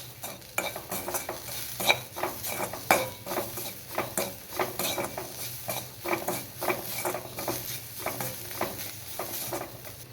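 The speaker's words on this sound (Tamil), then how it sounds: "இப்போ எல்லாத்தையும் நல்லா கிளறி விட்டுக்குவோம்" A spoon stirs fish cutlet mixture with salt in a pan, giving repeated scraping and clinking strokes in an uneven rhythm over a faint sizzle, close and moderately loud, with no talking.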